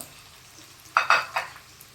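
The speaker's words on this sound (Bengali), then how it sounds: "এবার কড়াইতে সাদা তেল দিয়ে দিয়েছি এর মধ্যে এই পেঁয়াজ রসুন কাঁচা লঙ্কা এগুলো দিয়ে দিলাম ঝটফট করে একটু হালকা করে ফ্রাই করে নিই" Onion, garlic and green chili hit hot white oil in a wok, giving three sharp sizzling bursts in quick succession over a quiet background, close and moderately loud.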